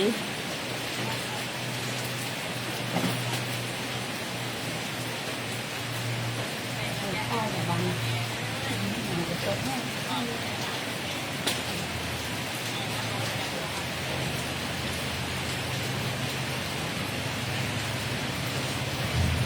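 Steady rain hisses throughout, a dense wash of falling drops with a low rumble underneath and faint voices in the background.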